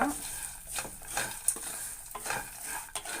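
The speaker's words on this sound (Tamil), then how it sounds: "இந்த வறுத்த கடலை, பொட்டுக்கடலை எல்லாத்தையும் நல்லா மிக்ஸ் பண்ணி விட்டுடுங்க" Roasted peanuts and roasted gram are stirred together in a pan for spicy kara pori. A spoon scrapes in repeated bursts over a faint sizzle with light clinks of metal, close and without voices.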